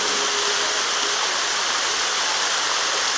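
A mountain stream rushes in a constant, dense, loud hiss of flowing water, steady and close with no voices or other sounds.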